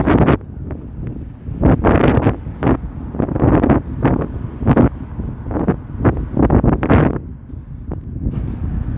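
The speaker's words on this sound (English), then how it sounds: "the wind is blowing in my face" Strong wind buffets an outdoor microphone on a very cold winter walk through downtown Toronto, loud gusty rumbles swelling and dropping in repeated bursts throughout.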